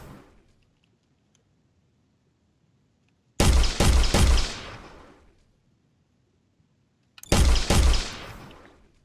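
Two separate clusters of loud pistol shots in a video game, each a quick burst of several sharp cracks with a ringing decay, set apart by silence.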